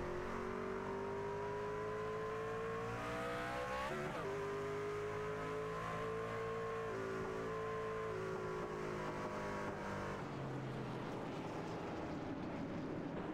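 Onboard engine note from the 03 race car of Paul Henley, a 09 Motorsports machine, at a night race behind the pace car, holding a steady loud drone with a brief dip and shift around the fourth second and rougher tone near the end.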